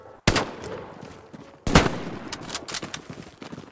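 Gunfire in an infantry and armor combat video game: two sharp, loud shots crack out, the second followed by a scattered trail of quieter shots and rattling echoes, with no speech over it.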